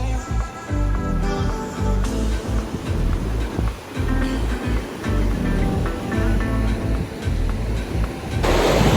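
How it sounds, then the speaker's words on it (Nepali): A fast mountain river on a trek to Kapuche Glacier Lake in Nepal, roaring loud and continuous nearby as a dense rush of water, without talk. "यस्तो छ खोला गाइस"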